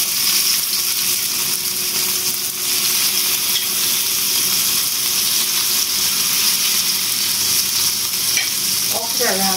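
Okra sizzles and fries in hot cooking oil in a pan, a steady loud crackling hiss that runs the whole time, with a few sharper pops and clinks near the end.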